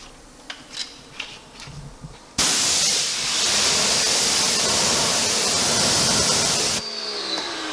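A steady, loud hiss of Gyeon Wet Coat being sprayed onto a car wheel runs for several seconds after a few quiet clicks and taps, then cuts off abruptly.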